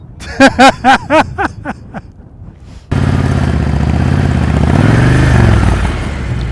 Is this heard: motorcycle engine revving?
yes